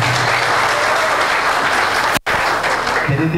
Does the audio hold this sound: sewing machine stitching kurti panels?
no